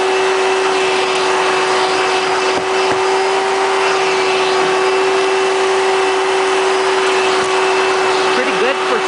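A Hoover bagless twin-chamber vacuum cleaner runs steadily on straight suction, a loud continuous whine with a strong constant tone that holds throughout without pause.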